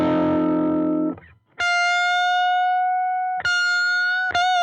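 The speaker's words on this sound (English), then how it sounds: "bending up into that blues note" A distorted electric guitar plays a blues lick: a low chord rings, then sustained single notes are bent up into the blues note with a short pick attack, loud and alone.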